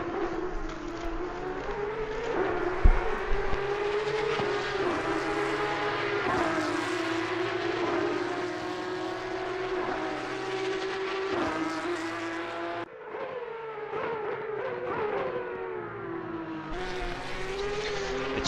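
Porsche Cup GT3 engine in a racing video game at Imola, a loud, rising and falling flat-six wail with gear changes and echoes off trackside walls, continuous over about eighteen seconds.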